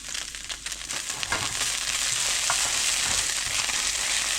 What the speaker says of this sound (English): Put another tablespoon of oil. And I'm going to put my chopped up garlic in right now.